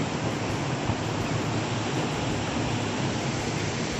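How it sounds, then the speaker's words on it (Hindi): Flowing river water at a small dam in a forest gives a steady, dense rush that holds at an even level throughout, with no voices over it. "नदी से जो बहता हुआ पानी की आवाज थी इतनी प्यारी थी"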